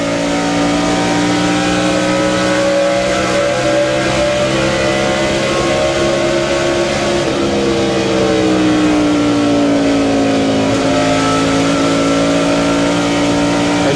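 NASCAR stock cars race at Pocono in the 2000 Pennsylvania 500 after a restart. Loud, sustained engine roar builds, with pitch sweeps as cars rev and pass close by, and no talk.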